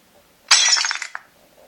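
A mug or dish breaks with one sharp crash, followed by brief tinkling fragments and a final clink, loud and close, then quiet.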